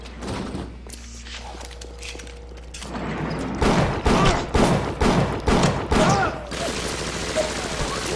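Gunshots in Bioshock boom as a run of heavy, evenly spaced blasts in the middle stretch, loud and close, with quieter ambience and thumps before and after.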